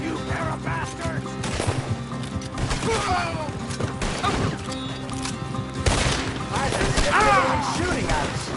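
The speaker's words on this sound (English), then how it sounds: "Everyone's shooting at us." Gunfire crackles through a shootout in Red Dead Redemption 2, repeated shots layered over a dense, loud battle mix with horses neighing, while voices shout and talk throughout.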